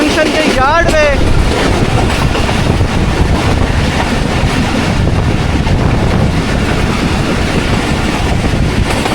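Express train from Rawalpindi rolling into Lala Musa junction yard on a rainy early morning, a loud continuous rumble with wind buffeting and a brief squealing horn-like tone near the start, with speech underneath.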